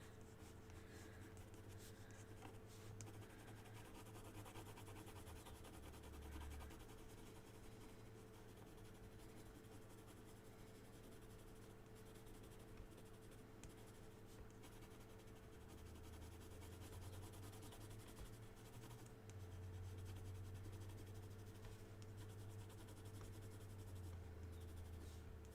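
Pencil or drawing tool scratching across good-quality paper while shading the shadows of a drawn hand, a steady soft rubbing texture that continues throughout over a constant low background hum, with no talking.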